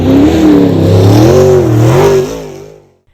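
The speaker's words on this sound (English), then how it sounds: "They're tired of the noise from revving engines and the whine of the race cars." Race cars rev their engines at a dirt speedway, a loud, wavering mechanical roar that rises and falls in pitch for a couple of seconds, then cuts off and fades quickly to silence.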